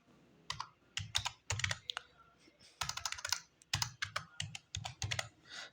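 Typing on a computer keyboard while writing Java code, with rapid close clattering keystrokes in bursts and short pauses, heard alone without speech.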